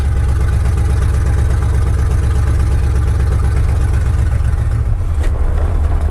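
An old Chevrolet C10 truck engine, long stored in a barn and hard to keep running, idles with a loud, steady low rumble throughout, with no voices.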